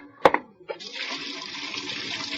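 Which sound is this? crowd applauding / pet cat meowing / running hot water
running hot water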